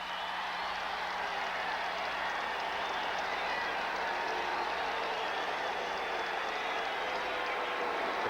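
A capacity stadium crowd roars at a 1986 professional American football game between the Denver Broncos and the Los Angeles Raiders, a dense and steady wall of cheering and clapping that stays loud throughout.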